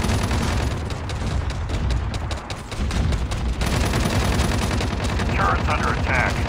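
Rapid, continuous turret gunfire in Call of Duty Mobile Zombies, a loud, dense rattle of bursts going on throughout, with faint voices underneath.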